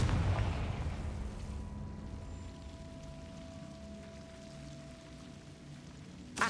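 A Confringo blasting spell in Hogwarts Legacy lands as a heavy boom at the start, then trails off into a low rumbling decay with a faint sustained tone and another burst at the very end.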